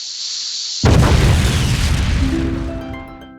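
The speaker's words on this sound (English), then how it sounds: "This is one Mexican handicraft with a really huge bang." A handmade Mexican firework bursts with a sudden huge bang after a thin high hiss, then a long rolling boom fades out with faint ringing tones.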